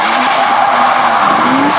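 A BMW 330 drag race car at a 1000 km drag racing event squeals its tyres hard as it launches, a loud, sustained screech with a rising engine tone beneath it.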